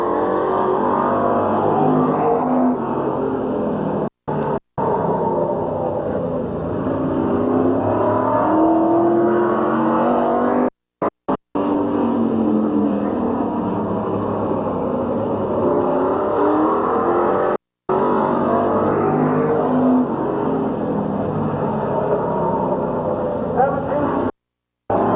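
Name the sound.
race cars at Midvale Speedway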